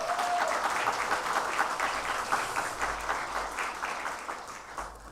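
Audience in a university chapel service applauding after a piano and violin performance, a dense sustained wash of clapping that slowly fades over a few seconds.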